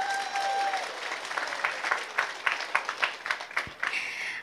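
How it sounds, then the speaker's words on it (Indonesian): An audience at an Islamic religious gathering in Cilacap claps in a loose, uneven burst that rises after a brief tone and trails off into scattered claps, moderately loud with no clear voices. "tepuk tangan dulu dong"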